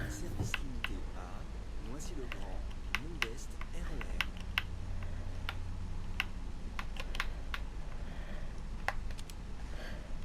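Steady typing on a computer keyboard while playing a Roblox game, with crisp, irregular key clicks over a low background hum and faint speech.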